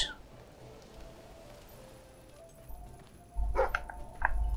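A dog in the video game Fable III gives a few short barks and yips near the end, loud against an otherwise quiet background ambience.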